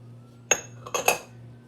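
Minced meat being mixed with garlic, onion and spices in a bowl, several short clinks and scrapes of a utensil against the dish, close and isolated in a quiet kitchen.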